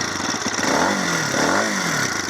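A fuel-injected Lifan Xpect motorcycle with 337 miles runs close by after sitting a couple of weeks, a loud steady engine rumble with slight revving swells and no talking.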